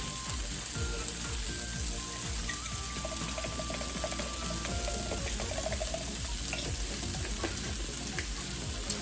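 Green beans and mushrooms sauté with garlic in a pan, making a continuous low sizzle with faint clinks and bubbling layered over it. A few brief bright tones also sound, and no one speaks.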